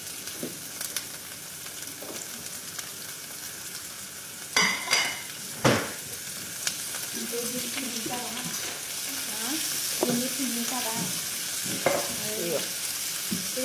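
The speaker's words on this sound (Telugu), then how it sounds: "ఇది క్యారెట్ 3 అన్నీ ఒకసారిగా ఫ్రై చేసుకుంటాం." Carrots and other vegetables sizzle and fry together in a pan, a steady bright hiss throughout, punctuated by a few sharp knocks and clinks of a utensil against the pan and occasional stirring scrapes.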